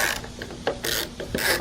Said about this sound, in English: Next step, you want to take off these little nuts right here.